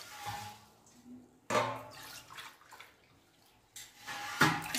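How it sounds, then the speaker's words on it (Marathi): Water is poured into a cooking pot for rice papad in uneven splashing bursts separated by short pauses, the last pour the loudest. "मी आधी 7च भांडे टाकले पाणी"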